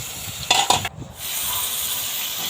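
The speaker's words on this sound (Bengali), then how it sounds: "তেলের ভিতর দিয়ে দিল, আর মাছগুলো কি সুন্দর ভাজা হচ্ছে" Pangas fish pieces frying in hot oil in a pan for an aloo pangas dish, giving a steady close sizzle with a couple of brief clatters of stirring near the start and a short dip before the hiss resumes.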